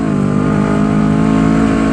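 A Honda CBR250RR motorcycle on a quiet night ride around Jogja's Ring Road revs lightly, its loud, continuous, buzzing engine note held close and steady with no talk.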